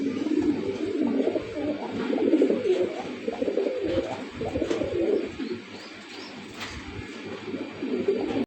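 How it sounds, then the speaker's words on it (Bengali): Pigeons coo steadily in low, throaty rolling calls, several birds overlapping close by with soft rustling between phrases. "এখানে তিন পিস কবুতর আছে"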